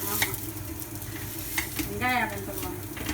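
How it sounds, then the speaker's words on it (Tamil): Rice flour and onion adai batter cooking on an oiled tawa, a steady close sizzle with occasional scraping and utensil taps, a short tonal squeak partway through, no voices. "ஒரு தவா வச்சுட்டு எண்ணெய் சேர்த்துட்டு இந்த பேட்டர் வந்து இப்படி தட்டி விடுறாங்க"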